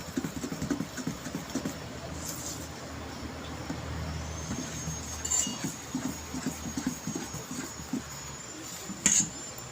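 A hand mixes spring roll batter made from flour and water, a little at a time, giving soft wet slapping and squishing in a steady rhythm. Faint background noise sits underneath.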